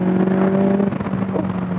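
A McLaren 720S convertible accelerates on the road, its engine note rising in a strong, close, steady drone heard from inside the car.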